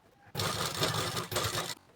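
A sewing machine runs a straight seam on a blouse in one short, close, steady burst of whirring that stops abruptly after about a second and a half.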